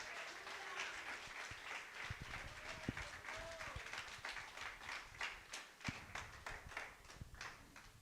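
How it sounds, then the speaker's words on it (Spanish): A congregation at a church service claps loudly and steadily, with continuous applause filling the room throughout and a few sharper claps standing out. "Denle un fuerte aplauso al Rey."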